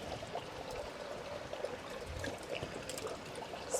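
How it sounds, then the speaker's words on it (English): Water is poured from a temple ladle (shaku) into a hand at a Japanese temple purification basin: a faint, steady trickling splash with no talk. "And you take the water from the shaku into your hand"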